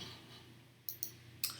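A computer mouse being clicked while working in Lightroom, giving three quiet, sharp clicks spaced apart over a faint background hum.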